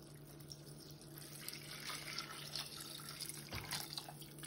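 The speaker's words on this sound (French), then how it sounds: "Et on va venir recouvrir d'eau." Water poured into a Thermomix TM6 bowl to cover 300 g of peas, a steady, soft rushing stream that runs without a break, faint and close, with no voices.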